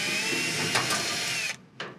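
A power tool whirs steadily as it backs out the screws holding an electric dryer's heating element, then cuts off and gives one more short spin, close up with no talking.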